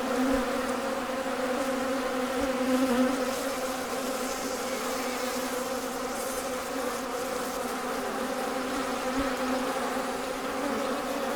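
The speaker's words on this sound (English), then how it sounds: "when you find a colony that is being robbed" Honey bees robbing a hive, a dense, steady, loud buzz of many wings close by, continuous and even throughout with no voices.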